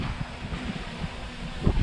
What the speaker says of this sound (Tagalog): lakas ng hangin oh